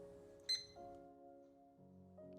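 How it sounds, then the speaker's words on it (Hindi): A digital SM 601 wall clock gives one quick, bright beep, then a run of sustained electronic tones that step between pitches. The sounds are faint and close by, with no speech. "एंड ये बीप कैसे करेगा."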